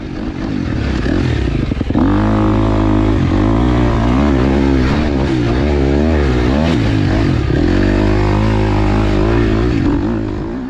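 Dirt bike fitted with studded snow tires lapping a sand track, its engine loud and close throughout, revving and shifting pitch as the rider works the throttle, with no talking over it.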